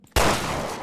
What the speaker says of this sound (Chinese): 开枪啦！